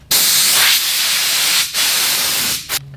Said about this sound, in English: I'm going to grab compressed air and blow this off